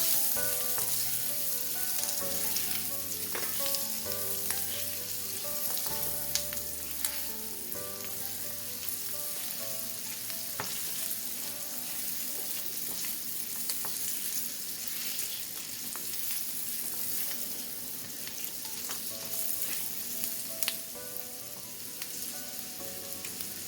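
Garlic, a piece of ginger, cashews and turmeric fry in a pan for butter paneer, with steady sizzling throughout and occasional stirring clatter, close and continuous under soft background music.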